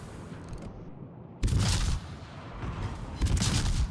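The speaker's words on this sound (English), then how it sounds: "There are times where Cleveland's guns make it very difficult." The guns of the cruiser Cleveland fire in a naval combat video game, with heavy bursts of booming gunfire, a loud volley in the middle and another rolling barrage toward the end.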